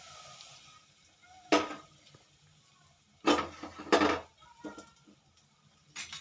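Mango-flavoured vermicelli is stirred in ghee in a pot, with a few separate scraping, clattering stirs over a faint sizzle, close and without speech.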